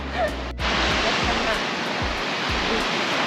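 Sea surf washing onto a Polish shore at the end of a holiday trip, a steady broad roar of breaking waves with soft low thumps, close and continuous throughout, no talk over it.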